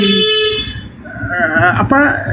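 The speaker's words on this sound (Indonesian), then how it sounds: "itu suara klakson lo dimarahin tuh" A car horn honks loudly with a sustained blare near the start, followed by a voice talking over a steady hum.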